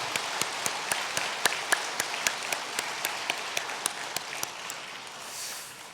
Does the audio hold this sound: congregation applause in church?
yes